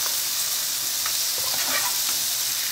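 Cassava sizzles steadily while frying in a pan, with a dense continuous hiss and occasional soft scraping as it is stirred.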